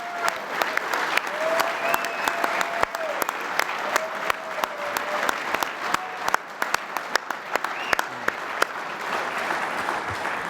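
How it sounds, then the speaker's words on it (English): An audience at the 2025 IFA ceremony applauds its eight honorees with dense, sustained clapping that fills the hall, steady and fairly loud, and a voice occasionally rises above it. "ask for one last round of applause for our 8 honorees tonight"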